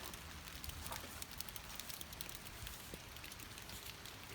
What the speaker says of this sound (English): Now it's just sprinkling